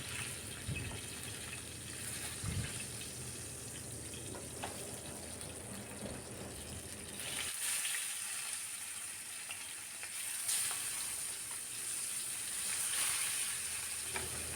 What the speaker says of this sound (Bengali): আমি একে একে সব মাছগুলো ভেজে নিচ্ছি